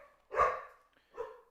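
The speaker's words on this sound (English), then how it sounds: "Dog's gonna bark just a sec." A pet dog barks twice indoors at home, two short, fairly faint barks about a second apart with silence around them.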